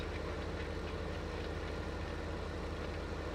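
Tractor engine in Farming Simulator 2015 labouring up a hill, a steady, dense low drone with a fast regular pulse throughout, loud and constant with no voices over it.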